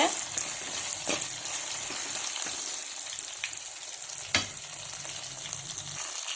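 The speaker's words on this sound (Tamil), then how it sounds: "இப்போ பார்த்தீங்கன்னா வெங்காயம் வதங்கிடுச்சு." Onions sautéing in a pan for a chicken kaadu varuval, a steady close sizzle and crackle with a few louder stirring scrapes and clinks, no talking.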